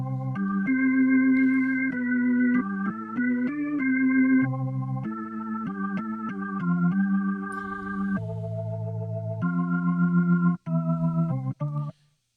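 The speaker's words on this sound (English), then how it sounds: "So then this whole melody would sound something like this." A MIDI synth melody plays back at a quick tempo, a steady run of clean tonal notes shifting pitch for about twelve seconds, alone with no talking, then stopping abruptly.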